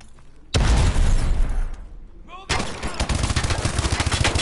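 In a Call of Duty: Advanced Warfare battle, a flashbang grenade bursts loudly, followed by rapid bursts of close gunfire with a ringing whine between them.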